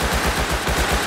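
Rapid bursts of automatic gunfire from a firefight in the survival game Rust, loud and close, with evenly pulsed shots running through the whole moment and no talking.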